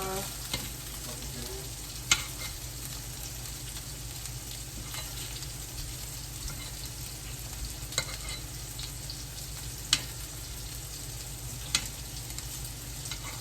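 Boiled food browns in a frying pan with a soft, constant sizzle and crackle, joined by occasional sharp clicks of a utensil against the pan. The steady hum of a kitchen sits underneath, and no one speaks.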